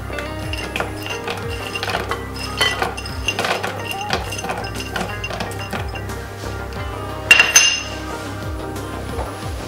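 Walnut pieces tumble into brownie batter in a bowl, giving a run of light clinks and taps against the bowl through the whole stretch, with a brighter cluster of clatter near the end.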